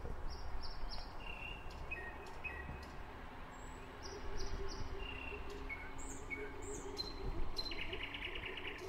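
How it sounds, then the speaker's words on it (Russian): Birds chirp and call repeatedly in a botanical garden, with bright short tweets scattered over a steady bed of insect or cricket buzz and faint outdoor background. "Слышишь, птичек?"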